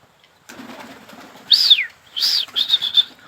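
Pigeons flap their wings as they take off, giving several loud, close bursts of rapid fluttering after a quieter start, with no voices.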